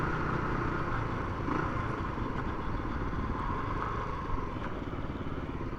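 A KLR 250 motorcycle runs steadily along a county road, its engine droning evenly at a constant pace with faint wind and road noise, fairly quiet and with no speech.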